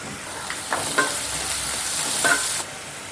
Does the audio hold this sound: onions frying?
yes